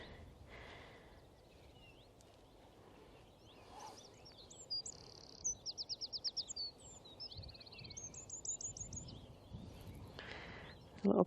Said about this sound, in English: Little birds.